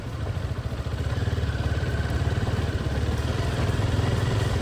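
An adventure motorcycle engine runs close by with a rapid, even thumping pulse, holding a steady idle throughout without talk.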